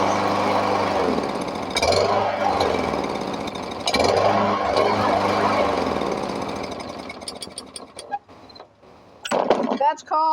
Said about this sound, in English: That's called start stalling the engine.